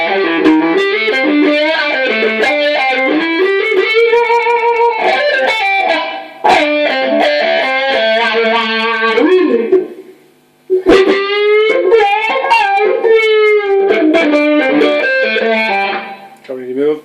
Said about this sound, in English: Oh yeah, the distortion with the wah.